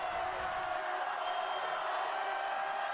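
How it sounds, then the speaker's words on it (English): Crowd noise at a high school football game late in the fourth quarter, a dense sustained roar of distant cheering and whooping that holds steady throughout. "Crowd is getting very, very loud here."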